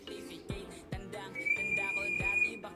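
A sustained high whistle tone to a pigeon holds for over a second amid rhythmic tapping and clatter, fairly faint in the mix.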